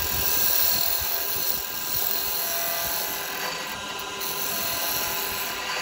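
Woodturning lathe spinning while a carbide chisel cuts a wood Christmas ornament, a steady loud whirring hum with a continuous high whine throughout, no talking.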